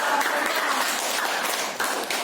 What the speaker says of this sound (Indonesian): Beri tepuk tangan buat Andika.